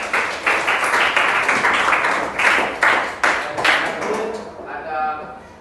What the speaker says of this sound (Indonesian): Tepuk tangan lagi buat teman.